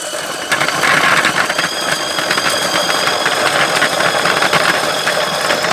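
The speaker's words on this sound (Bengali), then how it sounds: "আমি এখান থেকে চালাচ্ছি দেখেন কত সুন্দরভাবে এটা কিন্তু ফেলতেছে" A rechargeable fruit and vegetable peeler machine peeling onions starts up after a brief pause, then buzzes loudly and steadily close by with a rattling, vibrating motor tone and no speech over it.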